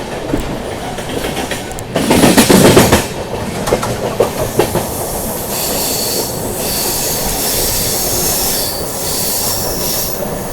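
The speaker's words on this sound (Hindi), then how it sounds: "अभी ट्रेन अपनी जो है माजरी जंक्शन स्किप कर रही है" The Tamil Nadu Superfast Express, number 12621, races along the rails with a loud roar, a burst of wheel squeal and rhythmic clatter. It is heard from on board the 2AC coach, close and continuous, without talk.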